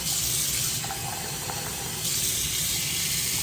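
Very hot water pours steadily into a container for fabric dyeing, a continuous close broadband hiss and splash with a slight change in tone partway through, no voices.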